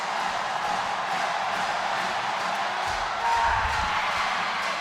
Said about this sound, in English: The crowd, as you can hear, right behind them.